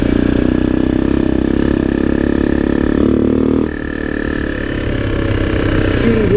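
A Kawasaki Bayou 300 ATV with low compression and a possible carburetor or intake manifold leak runs steadily on its first ride, a loud, close, continuous engine drone that dips briefly midway and then carries on.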